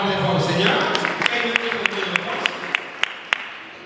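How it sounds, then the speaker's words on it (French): A church congregation applauds the Lord with a steady run of sharp, evenly spaced claps under a loud, continuous spoken voice. "Acclamons très fort au Seigneur."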